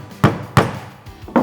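A hammer drives a small nail into a wooden board, giving three sharp, loud strikes, two close together and a third after a short pause.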